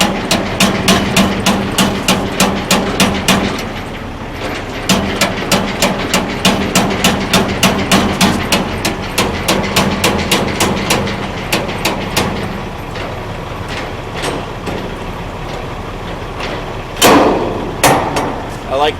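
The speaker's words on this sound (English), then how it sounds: "I'll come down to the landing gear. Drop it all the way down to the ground." Semi-trailer landing gear being cranked down to the ground, a loud, rapid run of metallic clicks and ratchets close by, pausing briefly before a final heavier clunk near the end.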